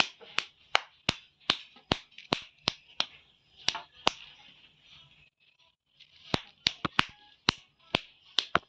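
Hands clap in crisp, regular beats, close and distinct, with a short pause in the middle before the rhythmic clapping resumes.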